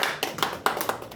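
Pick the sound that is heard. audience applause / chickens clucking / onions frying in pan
audience applause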